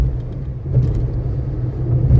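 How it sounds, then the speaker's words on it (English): Gusty wind whips up a small dust storm outdoors at a New Mexico rockhound gathering, a loud, close, low rumbling buffet that surges and swells unevenly across the whole moment. "Here's a little mini dust storm."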